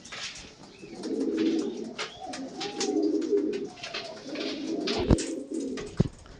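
Close, low cooing from several pigeons comes in rolling bursts, with a couple of sharp knocks or wing taps near the end and no voices.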